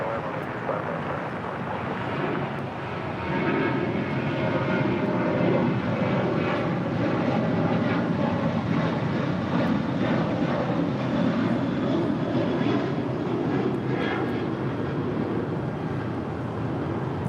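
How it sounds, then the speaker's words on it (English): An American Airlines Boeing 737-800 jet departs from LAX, bound for Las Vegas, its engines making a broad, steady roar that holds loud and constant, with some wind buffeting the microphone. "This is American Airlines 1924 departing to Las Vegas on a 737-800"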